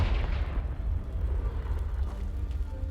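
A Confringo fire spell blasts a pile of debris in Hogwarts Legacy, sending out a deep rumbling boom that fades into a low, crackling roar for a few seconds, with no voices.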